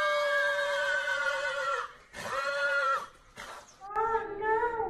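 A horse neighing in a children's story told in Portuguese: long, loud whinnies with rich harmonics, one after another in close succession, ending in a wavering, quivering call.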